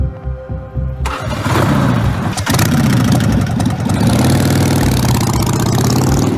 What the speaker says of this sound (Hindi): ये साहब अपनी मोटरसाइकिल पर लंदन के ट्रैफिक से भरी सड़कों पर जाने वाले हैं।